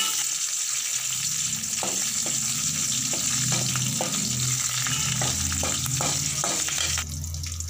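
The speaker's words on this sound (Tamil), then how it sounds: "நம்ம எடுத்து வச்சுருக்கிற கருவேப்பிலையும் அரிஞ்சு வச்சுருக்கிற பச்சை மிளகாயும் போட்டுக்கலாம் இது நல்லா பொரியட்டும்" Curry leaves and chopped green chillies fry in hot oil for a potato kurma, a constant loud crackling sizzle close by with light knocks of stirring at irregular intervals.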